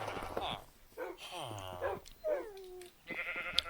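Several short Minecraft sheep bleats follow one another in quick succession, with clicky game sounds and a brief quiet gap between calls.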